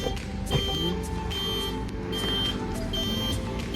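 A vehicle on the road between Nashik and Malegaon sounds repeated electronic beeps in steady pulses over a constant rumbling engine drone, loud and close.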